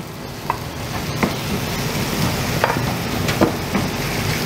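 Seasoned chicken fries in a pan with a soft, steady sizzle while a utensil stirs it, giving scattered scraping clacks against the pan.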